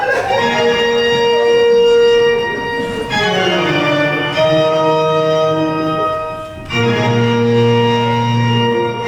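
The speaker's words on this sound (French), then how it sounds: "je me demande si on ne ferait pas repenser la mélodie de la sonnette" A doorbell plays a melody of several sustained, bell-like chime notes that ring out loud and clear with no voices.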